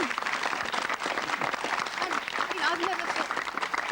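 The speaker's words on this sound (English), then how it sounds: "I think that deserves a round of applause" TV studio audience applauding during a 1992 talk-show debate on beauty queens, a continuous moderate wash of clapping with voices talking over it.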